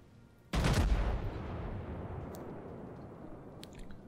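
A single heavy boom of battleship gunfire from the Arizona in World of Warships, sharp at onset, trailing into a long rumbling decay, with faint clicks afterward.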